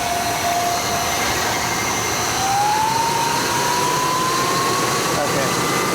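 A steady, loud truck engine drone with a rising whine as RPMs increase, switching from battery power to engine power to run an Auragen EV charger, constant and close throughout.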